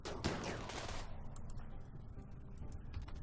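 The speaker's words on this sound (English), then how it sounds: "Everybody fire at Meatface" Gunfire in a RimWorld colony firefight: a dense cluster of rapid shots at first, then thinner, scattered bursts and clicks.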